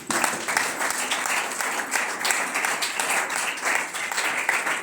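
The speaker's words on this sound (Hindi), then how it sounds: "उनके लिए आप एक जोरदार तालियां बजा दें।" Hearty audience applause at a gathering, a continuous, even wash of many hands clapping that holds steady throughout with no talking over it.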